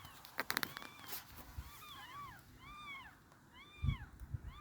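Newborn kittens on a homestead give thin, high mewing cries in a quick series, faint and close, with a few soft thumps and rustles around them.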